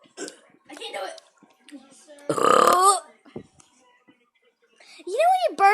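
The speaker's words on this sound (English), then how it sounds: "You know when you burp, everything shakes on your body?" A child gives a loud, long, gurgling burp between bits of chatter, with another rough burp-like sound at the end while children talk around it.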